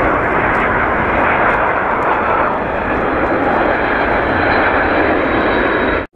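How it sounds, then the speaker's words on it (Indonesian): A loud, steady roar of a toy airplane's engine sound dominates throughout, close and continuous, cutting off abruptly at the end. "Wis, pesawat terbang."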